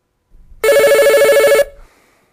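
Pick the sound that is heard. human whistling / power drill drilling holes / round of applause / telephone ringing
telephone ringing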